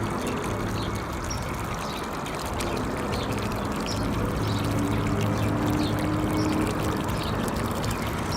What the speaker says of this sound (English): Okay, that's my garden hose. It's at about 1/4 power.